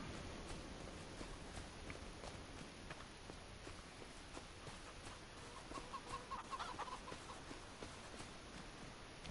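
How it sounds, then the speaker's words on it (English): Chickens cluck softly in a farm barn in the video game Farming Simulator 25, a continuous low clucking bed with scattered footstep-like taps and a brief brighter chirp midway. "most of my animals are still pretty young, like these chickens"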